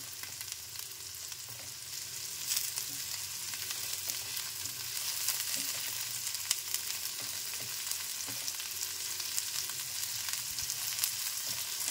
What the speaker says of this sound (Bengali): লাউটা আমার খুব ভালোভাবে ভাজা হয়ে গেল দেখুন